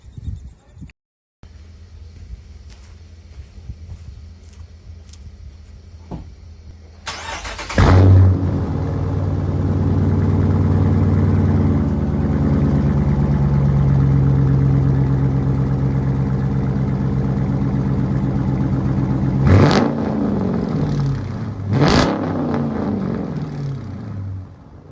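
Dodge Challenger with a newly fitted aftermarket exhaust, first quiet, then the engine fires up into a loud, deep rumble that holds steady before two sharp revs near the end.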